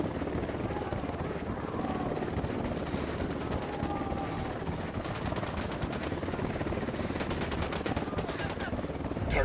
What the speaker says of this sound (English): Target is down. Helicopter inbound.